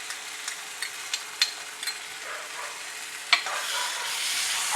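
Onions frying with ginger garlic paste in a pan for a prawn sukka, a soft continuous sizzle with several brief stirring scrapes and clicks of a utensil, the hiss swelling louder toward the end.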